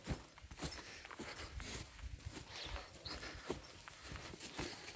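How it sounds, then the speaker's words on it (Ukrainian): Irregular, faint hoof clops from a Percheron mare in a slow walking rhythm mix with rustling and creaking over a quiet outdoor background. "Їде кобила вже потихо"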